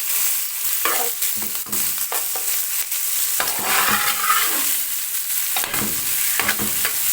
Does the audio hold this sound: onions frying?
yes